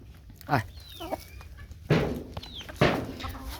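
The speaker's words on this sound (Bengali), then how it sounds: "এখন চারোটা চারটা মুরগি ডিম পারতেছে" Native hens cluck nearby in a few short bursts, and a couple of louder cackles stand out over a quiet farmyard background.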